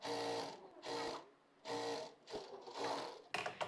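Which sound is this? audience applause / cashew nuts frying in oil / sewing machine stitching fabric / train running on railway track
sewing machine stitching fabric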